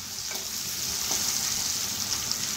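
Sliced onion fries in oil over a high flame, a loud, constant close sizzle with faint stirring scrapes mixed in and no voices.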